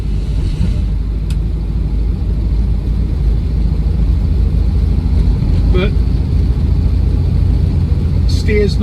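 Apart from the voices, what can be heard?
1959 Alvis TD21 car driving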